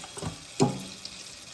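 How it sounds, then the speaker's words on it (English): Tap water runs over a raw turkey being rinsed in a kitchen sink, a short splashing burst that swells briefly and fades, close and fairly soft with no talking. "When it's done, I'm just gonna rinse off my turkey."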